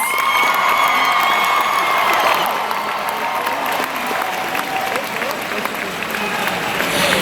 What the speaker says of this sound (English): Please give a round of applause for our magnet, dual magnet, and all of our students